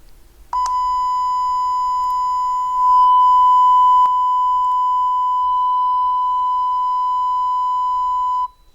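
A steady, pure electronic tone holds at one pitch for about eight seconds, loud and even, starting and stopping abruptly.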